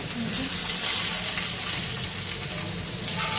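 Food for chicken rolls fries in hot oil, giving a steady, dense sizzle with some soft stirring noise throughout and no clear talk.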